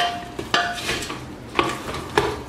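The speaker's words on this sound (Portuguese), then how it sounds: "é só mexer com uma colher de pau para poder misturar o tempero na carne" A wooden spoon stirs raw beef seasoned with garlic, salt and green onion in a pot, giving a few scattered scraping knocks and soft clinks, with no speech.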